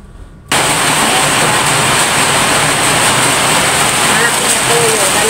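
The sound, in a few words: heavy rain falling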